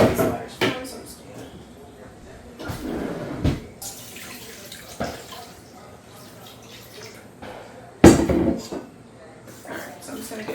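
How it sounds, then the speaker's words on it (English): Water from a kitchen tap runs and splashes for a sourdough starter in a home kitchen, several bursts of flow and clinks over about ten seconds, close by, with some talking in between. "I'm going to add in some water."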